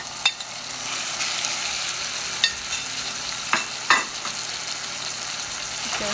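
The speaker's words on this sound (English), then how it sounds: "Alright, I'm going to add the pork here with seasoning already." Seasoned pork sizzles steadily in a pan alongside bitter melon, a constant close frying hiss broken by a few sharp stirring scrapes and clinks.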